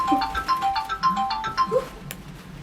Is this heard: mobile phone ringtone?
yes